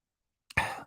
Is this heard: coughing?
yes